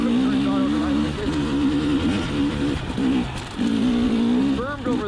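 A 2020 KTM 300xc TPI enduro motorcycle engine revs up and down with the throttle during a ride, a steady buzzing drone rising and falling in pitch, with brief dips, and voices talking over it.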